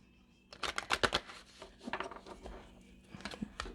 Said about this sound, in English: So let me just shuffle these. All right. I'm going to shuffle.